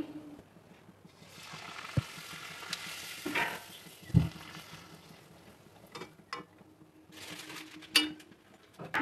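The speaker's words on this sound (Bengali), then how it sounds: "আমার লুচি ভাজা হচ্ছে" Luchi fries in hot white oil in a pan with a faint, steady sizzle, broken by sharp clinks and scrapes from stirring or turning the bread.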